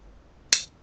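Scissors cut fabric while a skirt is draped by a bespoke tailor: one short, crisp snip close by in an otherwise quiet room.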